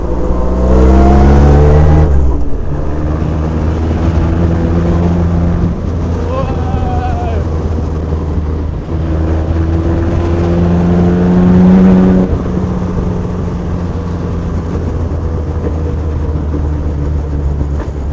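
A Bentley engine drones and revs steadily throughout, loud and close, with rumbling low tones and wind noise, like riding inside a moving vehicle.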